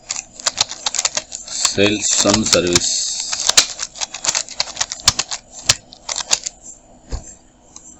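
Sharp, irregular keyboard clicks scattered across several seconds while someone typing English text into a Photoshop notice design talks over them, with a brief burst of speech in the middle.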